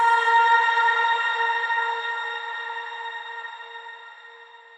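A shimmer-style reverb tail rings out with stacked, octave-raised tones, a bright glassy pad of sustained harmonics that fades slowly and evenly over several seconds, alone with no voices.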